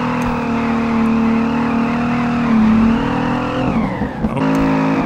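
Nissan S13 in the Peak Angle drift game sliding and downshifting, a loud sustained engine drone with shifting pitch, tire squeal and a brief rev dip near the end, close and continuous with no talking.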